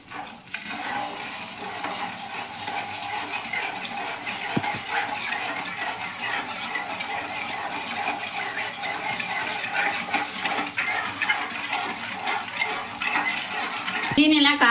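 Sugar is stirred in a pan to dissolve it for bread halwa, with a continuous close swishing and scraping that runs the whole time.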